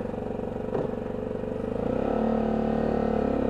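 A brand-new, water-cooled Lexmoto LXS Euro 5 motorcycle engine firing up with a brief clatter, then settling into a steady, loud idle that builds as the throttle is blipped, close by with no talking.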